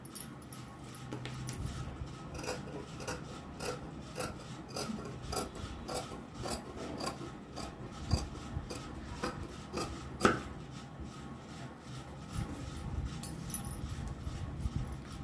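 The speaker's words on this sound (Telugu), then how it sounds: "ఇప్పుడు మనము ఈ డ్రా చేసిన విధంగా కటింగ్ చేసుకోవాలి" Hand scissors snip steadily through blouse fabric, a soft, continuous rasp of repeated close-up cuts with no talking.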